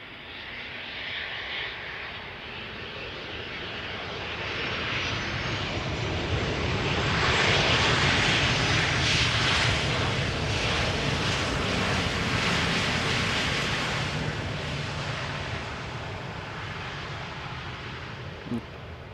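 A Boeing 737-800 airliner arriving from Birmingham lands at Amsterdam Schiphol Airport, its broad engine roar swelling to a peak mid-clip and then slowly easing off while staying loud and continuous.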